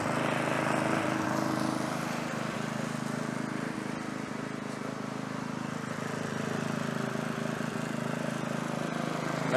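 A lawn mower drones steadily at close range for the whole stretch, its engine a constant loud hum with no breaks and no voices.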